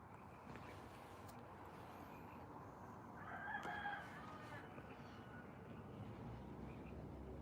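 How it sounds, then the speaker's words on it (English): Rooster crowing before dawn, a single faint, distant crow rising out of a steady nighttime background hum, with no other voices around. "Roosters are idiots, yeah."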